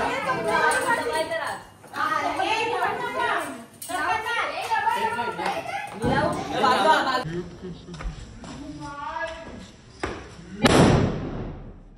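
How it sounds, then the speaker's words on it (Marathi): Children chatter and shout close by while Diwali firecrackers go off, with a loud sharp bang near the end. "बघू शकता फटाके कसे फोडतात आमच्या इथे"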